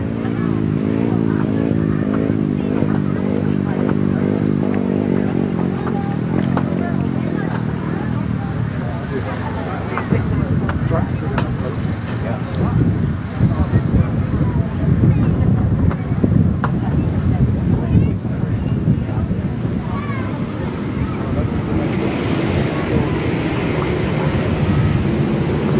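Grasstrack motorcycles roar away from the start of a race at a 1994 Lincolnshire meeting, a loud sustained engine drone mixed with wind buffeting, with a commentator talking over it throughout.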